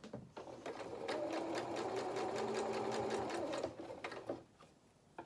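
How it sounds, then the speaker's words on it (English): A sewing machine stitches felt for a toy donkey's body and limbs, making a close, rapid, even whirring run of needle strokes for about three seconds that slows and stops, followed by a few single stitches. "just put a little bit of pressure on, and the felt should start to sew underneath"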